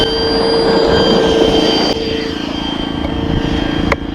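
RC model B-26 bomber on its maiden flight, lifting off: a loud, steady engine drone with a sustained whine holds throughout, easing slightly partway through.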